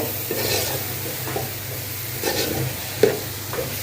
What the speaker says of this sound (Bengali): আলু আর টমেটোটা দিয়ে দিচ্ছি ভাজার মধ্যে ভালো করে ভাজা হোক